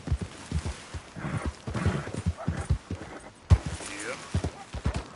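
Horse hooves clip-clop at a steady walking rhythm while riding in the Red Dead Redemption 2 video game, mixed with near, frequent talk that largely masks the hoofbeats.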